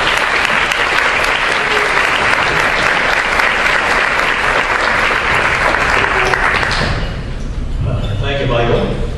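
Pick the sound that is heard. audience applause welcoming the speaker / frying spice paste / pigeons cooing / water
audience applause welcoming the speaker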